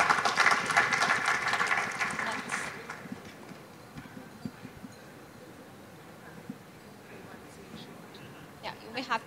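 An audience at an agricultural innovation event applauds a panel, the dense clapping strongest at first and fading within a few seconds to quieter room sounds and scattered noises.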